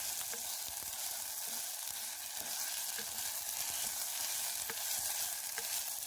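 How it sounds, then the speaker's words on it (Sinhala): Spice paste of ground masala frying in hot oil for a Sri Lankan village-style chicken curry, a steady close sizzle with scattered pops and crackles of stirring throughout. "හොඳට 3-5 මිශ්‍රණය තෙලේ බැද ගන්න."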